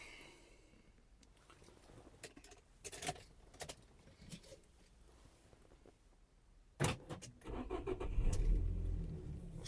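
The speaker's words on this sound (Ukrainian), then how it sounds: "Автомобіль заводиться ідеально." A 2002 Nissan X-Trail's 2.0-litre petrol engine cranks and catches near the end, settling into a low, steady idle after scattered clicks and knocks.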